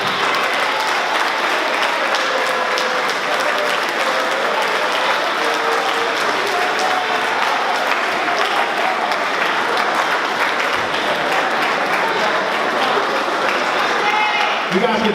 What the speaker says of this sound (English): Applause to all your family members that come here and support you.